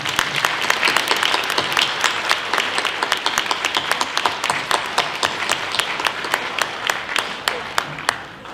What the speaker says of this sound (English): Let's give her one more round of applause for Nell Anderson.